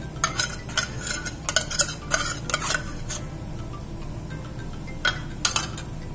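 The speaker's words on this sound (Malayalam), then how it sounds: "പൈനാപ്പിള് വെച്ചത് ഒന്ന് ഇളക്കി കൊടുക്കണം" Pineapple for a biscuit pudding is stirred in a pan, with a spoon scraping and clinking against the metal in irregular bursts over a soft background sizzle, and no speech.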